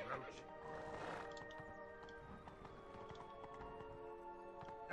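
Geralt's horse Roach gallops in The Witcher 3, hooves clip-clopping steadily throughout over a bed of tonal game music, with a brief neigh possible and a voice-like murmur underneath.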